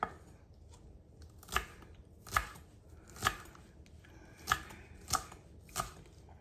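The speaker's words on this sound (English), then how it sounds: "we're going to need a couple of chopped green onions" A knife chops green onions on a board, about seven crisp, evenly spaced close thuds over a faint background, with no talk.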